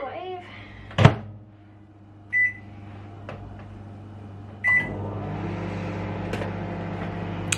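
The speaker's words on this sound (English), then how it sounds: "So I'm just going to nuke it a little bit in the microwave" A microwave oven hums steadily while softening butter, opening with a sharp door clunk, followed by a couple of short beeps and a low continuous drone that runs to the end.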